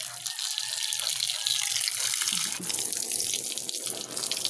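Water runs steadily from a tap into a sink while a rag is washed, a continuous close splashing stream with no talk.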